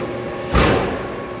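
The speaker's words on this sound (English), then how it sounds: "We're going to close the door." A CNC machine door slides shut with a single brief rumbling thud against steady background machine-shop hum.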